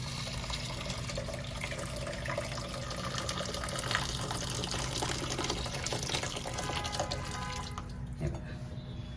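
Hot water poured over dal into a pressure cooker, a continuous gushing splash with a low steady hum underneath, moderately close, a voice faintly present.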